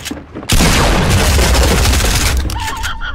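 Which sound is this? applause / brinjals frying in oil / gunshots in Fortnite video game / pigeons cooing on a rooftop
gunshots in Fortnite video game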